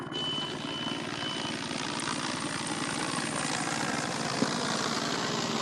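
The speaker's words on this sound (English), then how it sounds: "we got one of our helicopters getting ready to kick off here" A helicopter running on the ground ahead of the rally start at the Abu Dhabi Desert Challenge in the desert, a steady loud rotor chop and engine whine that holds throughout, with one brief click near the end.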